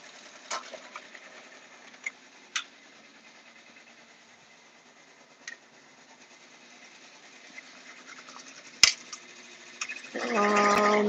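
A Baby Lock Alliance single-needle embroidery machine stitches with a faint, steady mechanical hum, broken by a few sharp clicks and taps, before a louder burst of noise at the end.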